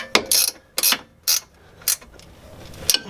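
Ratchet snugging up brake caliper bolts, five short bursts of rapid clicking separated by pauses, close and crisp in an otherwise quiet space.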